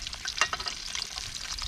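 Food frying in a pan during a home cook's last batch, a steady bright crackling sizzle with occasional louder pops and stirring scrapes, close and continuous, no talking.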